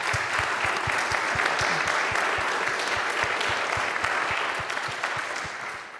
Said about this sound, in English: I think we owe her another round of applause.